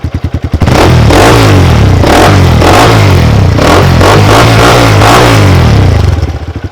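A Hero Xtreme 200S motorcycle engine revs hard and loud through a throaty, rumbling modified open exhaust, sustained for several seconds before dropping back to a rough, pulsing idle.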